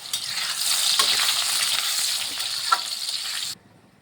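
Potatoes frying in hot oil in a pan while being stirred, a loud continuous sizzle with occasional scraping stirs, cut off abruptly near the end to near silence.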